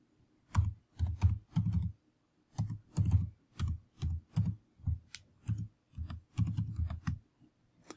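Keys on a computer keyboard are typed in short bursts while entering a username and password at a login screen, crisp close clicks in quick clusters separated by brief pauses.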